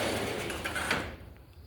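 A Harbor Freight greenhouse door slides along its track with a rough, continuous rumbling scrape that ends abruptly after about a second.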